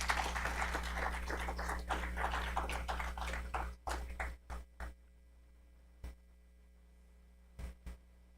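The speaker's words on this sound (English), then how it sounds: "let's give these great artists a big round of applause" Applause at a school board of education meeting for student artists, a few seconds of fairly faint clapping that thins into scattered last claps over a steady electrical hum.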